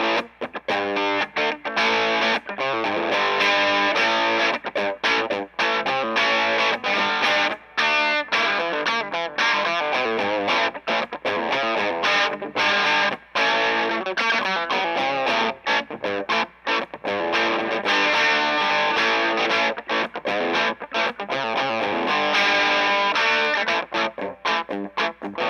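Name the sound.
electric guitar through tube amp, low gain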